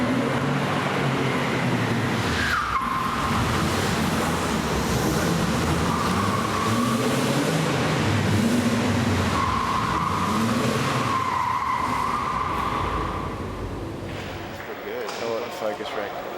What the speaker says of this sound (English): You're gonna see the Porsche kind of drift in.